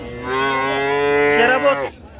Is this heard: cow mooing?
yes